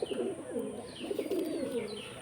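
Soft, throaty cooing of a male homing pigeon in repeated low rolling phrases, close by, with faint background noise.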